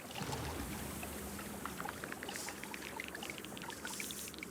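Water is placed across the landscape in the Terra Nil game, a steady soft rushing and pouring wash with faint bright trickling sparkles, quiet and constant throughout.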